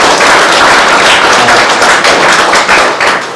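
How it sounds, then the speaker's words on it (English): Audience applause at a livestreamed event for Dr. Amorosa, a loud dense burst of clapping filling the short moment, close and sustained without talk. "Let's give another round of applause for Dr."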